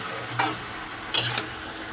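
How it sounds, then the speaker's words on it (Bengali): A spoon stirs a curry of jackfruit seeds, Malabar spinach and papaya in a pan, giving two short scraping strokes over a soft sizzle, close and fairly loud, with no talking. "ভালো করে নাড়িয়ে নেব, নেড়ে চাপা দিয়ে দেবো।"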